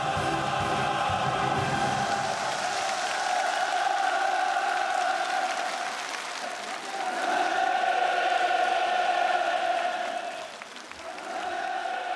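Audience at a state concert in Pyongyang erupting in enthusiastic cheering as the performance ends, a sustained massed roar of many voices with rising and falling shouts that swells repeatedly, loud and filling the hall.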